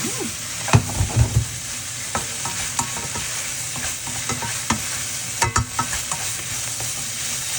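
Holy basil and fish roe stir-fried in a hot pan, with steady sizzling under repeated scraping and clattering of a spatula against the pan, close and alone.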